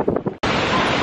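Strong wind gusting across the bridge at Shifen Waterfall in Taiwan, a steady broadband roar buffeting the microphone, beginning abruptly after a brief moment of quieter rumbling and holding loud to the end.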